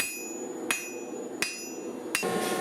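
Three sharp, ringing hand-hammer strikes on hot steel while forging a seax knife blade, at steady intervals, close up over a low background hum.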